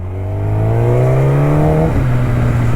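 Up close, a hypersport motorcycle engine revs high and holds a loud, steady howl, then drops abruptly to a lower pitch and keeps droning without a pause.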